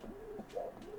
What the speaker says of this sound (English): Sorry, my bird is going crazy. She is stretching her wings.